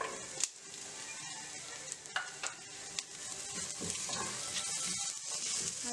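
Capsicum is added to carrots and beans already sautéed in a pan for paneer fried rice; a spatula scrapes and stirs through a continuous sizzle, with a few sharp clicks early on.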